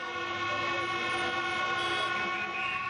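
Car horns blare during a protest convoy of several hundred vehicles in Tbilisi, a sustained overlapping honking that stays loud and steady throughout.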